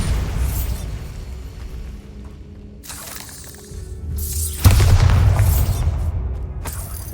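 Bombarda spell explosions in Hogwarts Legacy, loud booming blasts with bursts of crackling debris, one sharp heavy detonation midway followed by a rumbling tail, up close amid game ambience.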